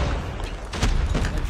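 A frag grenade goes off in a Call of Duty: Mobile match, a short muffled boom rising out of noisy gameplay clatter, followed by a rumbling tail.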